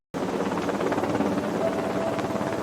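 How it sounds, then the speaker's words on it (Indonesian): A rescue helicopter arrives as a steady, loud roar of rotor and engine noise that starts abruptly and holds constant, with no voices. "keesokan paginya, helikopter penyelamat datang dan menghampiri mereka"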